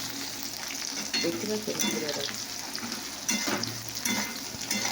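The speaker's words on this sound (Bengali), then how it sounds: "আমার আলু ভাজা রেসিপিটা কতটা ভাজা হলো" Potatoes fry in a pan with a steady crackling sizzle and occasional stirring scrapes, while a person talks briefly over the cooking.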